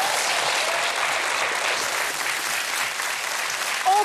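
Enthusiastic applause from a large television studio audience during BingoLotto, dense and sustained clapping that holds steady throughout.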